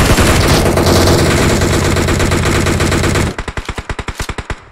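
Gunfire in a battle royale mobile game match: a loud, dense burst of rapid automatic fire, then a clear string of about a dozen separate evenly spaced shots, close and with no voices.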